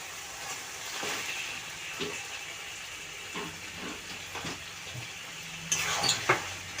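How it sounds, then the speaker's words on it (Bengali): Mutton going into oil and fried spice masala in a pan for a spicy mutton and potato curry, giving a soft, steady sizzle and hiss with scattered clinks and scraping stirs, louder near the end. "মশলাটা কষানো হয়ে গেছে এবার আমি মটনটা দিয়ে দিচ্ছি"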